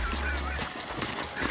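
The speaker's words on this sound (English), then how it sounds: "If you thought swans were lovely creatures, then take a look at this huge one attacking a dog." A large swan attacking a dog gives harsh honking, hissing calls, loud and close in a short burst with splashy background noise.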